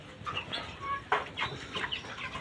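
Broiler chickens on a poultry farm cluck softly and intermittently at close range, with scattered short calls and a sharper squawk over a quiet background.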